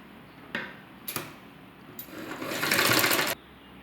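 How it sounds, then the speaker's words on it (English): Sewing machine stitching a sleeveless armhole finish: a couple of short bursts, then a longer steady run of fast mechanical whirring, close and clear with no talking. "then stitch the end."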